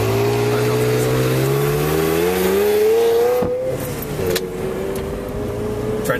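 A Ferrari 355 on the road revs its engine loudly and steadily, the pitch climbing smoothly through the gears before easing off near the end, heard close and alone without talk.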